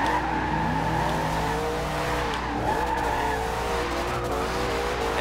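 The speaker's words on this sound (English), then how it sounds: "Ended on a little burnout there." A Bumblebee-styled Camaro Z/28 in Forza Horizon 2 does a burnout, its engine droning and revving while the tires squeal in long wavering howls, loud and close throughout.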